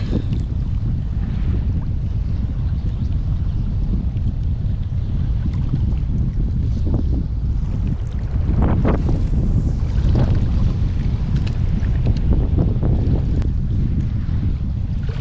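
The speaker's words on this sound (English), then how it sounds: "Wind is so annoying." Steady, roaring wind buffets the microphone while someone fishes from a kayak on open water in the UK, a dense low rumble that swells briefly partway through, with no talk.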